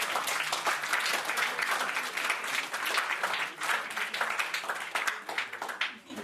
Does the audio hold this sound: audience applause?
yes